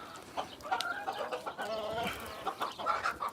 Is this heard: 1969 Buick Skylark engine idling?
no